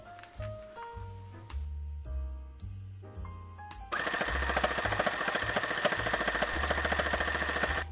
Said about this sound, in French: Je vais aller coudre à la machine tout autour pour fixer mes oreilles.